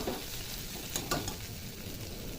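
Chopped tomato frying with spice masala in a pan, a steady soft sizzle with a couple of brief stirring scrapes, close and continuous with no voices.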